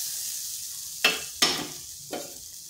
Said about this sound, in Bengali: নারকেলটাকে হালকা একটু ভেজে নিচ্ছি